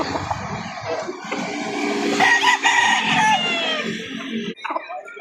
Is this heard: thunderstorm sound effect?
no